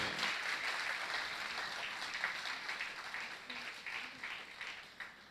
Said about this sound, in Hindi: मैं चाहूंगा एक बार उनकी स्मृति में सब तालियां बजाए।